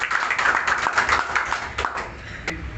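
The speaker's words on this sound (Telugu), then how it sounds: "ఒకసారి కేటీఆర్ గారికి మనం అందరం కూడా చప్పట్ల ద్వారా ధన్యవాదాలు తెలియజేస్తాం." Party workers at a meeting clap together for a short burst, a dense crowd patter of hands that thins out toward the end.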